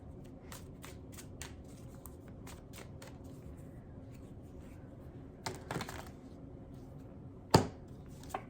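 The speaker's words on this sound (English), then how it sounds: "Let's give it another shuffle here" Tarot cards shuffled in brief riffling bursts and soft taps, with a sharper louder snap near the end, quiet and close.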